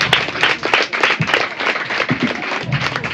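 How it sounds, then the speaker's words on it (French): Audience at a quiz final applauding, a brisk burst of loud, close hand claps that carries on steadily throughout. "On applaudit très fort."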